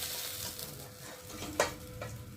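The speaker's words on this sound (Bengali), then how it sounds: "একটু দূরে থেকে থেকে মাছগুলোকে ভেজে নিলাম" Pabda fish frying in hot oil, a steady close sizzle with a couple of sharp clinks of a utensil against the pan, brief and moderately quiet, with no talking.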